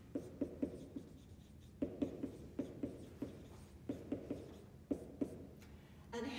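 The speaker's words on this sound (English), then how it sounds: "And I'll just draw this down." A pen sketches a diagram on paper in a series of quick, distinct scratching strokes, some grouped in short bursts, close and fairly quiet.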